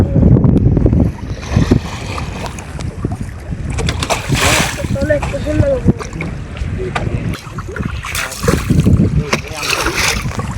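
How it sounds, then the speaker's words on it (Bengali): Large river waves slap and wash around a fishing boat out netting hilsa, with steady wind buffeting and occasional splashes close by, while people talk over the water noise throughout. "দেখেন ঢেউ আসছে অনেক বড় বড়"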